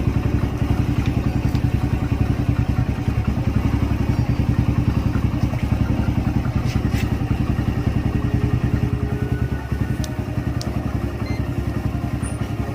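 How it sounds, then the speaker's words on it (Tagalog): A motorcycle engine runs close by at a steady idle, its rapid even putter continuing throughout with light mechanical clatter, while the machine is being tested in a workshop for its regulator rectifier. "Start na po natin yung motor."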